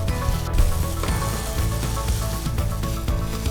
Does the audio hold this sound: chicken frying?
yes